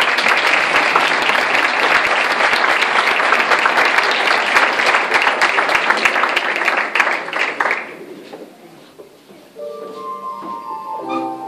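Loud, dense applause fills a community hall at a tribute to an elderly woman in Barrial de Gáldar. It holds steady for several seconds, then fades away, and quiet music and voices follow.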